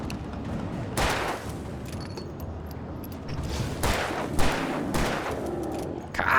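Rapid bursts of gunfire in the video game Alan Wake Remastered crackle over a steady din of battle noise, with heavy shots landing at intervals.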